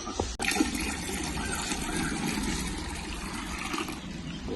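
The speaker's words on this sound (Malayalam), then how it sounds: "ഒന്നത് ഒഴിക്കുന്നതും കൂടി കാണിച്ചു കൊടുക്കാം" Diluted homemade liquid fertilizer made from kitchen waste is poured from a cup, giving a steady, close watery rush and splash that continues for several seconds with no voices.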